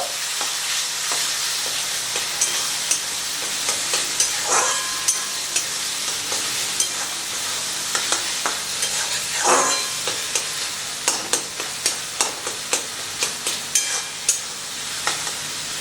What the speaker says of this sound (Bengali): তো সব কিছু দিয়ে খুব ভালো করে মিশিয়ে দেব।